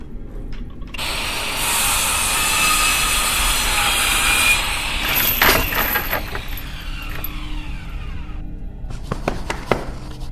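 An angle grinder cuts in a video game set in a summer of 1958: a loud, steady, high abrasive whine holds for several seconds and then breaks into scattered metallic clanks and knocks toward the end.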